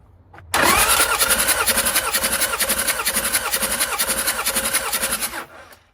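A car engine cranks on the starter during a compression test, a loud close rhythmic chugging that starts abruptly and runs steadily for about five seconds before stopping, with no talk over it.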